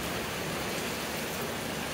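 Heavy rain falls on a street in an even, unbroken hiss that stays loud and close throughout, with no voices.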